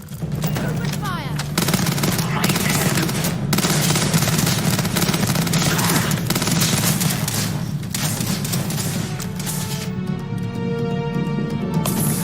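Sustained gunfire in a Starfield firefight, loud rapid automatic bursts and shots overlapping continuously, with heavy low rumble and a tonal effect rising near the end.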